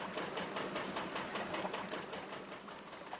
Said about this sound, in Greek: Αυτό που ακούτε τώρα είναι μονοκίνηδροι μηχανή που έχουν στα ψαροκάικα